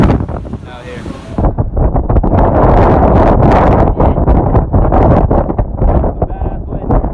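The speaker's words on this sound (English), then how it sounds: "It's a little bit windy out here." Strong hurricane wind roars outdoors in Miami, Florida, during Hurricane Irma, a loud continuous buffeting rush with heavy gusts battering the microphone, and a person briefly talks at the start.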